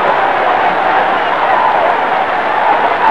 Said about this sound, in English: The crowd goes wild as it's announced that Johnson is awarded a 9th round knockout win.